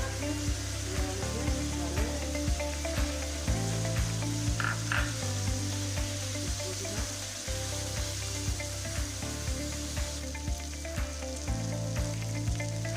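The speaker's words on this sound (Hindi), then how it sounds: "चिकन हमारा फ्राई हो रहा है" Chicken frying in a pan with turmeric powder gives a steady close sizzle that runs the whole time, with low rhythmic knocks and stirring underneath.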